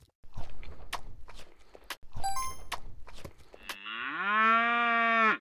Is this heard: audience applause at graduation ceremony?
no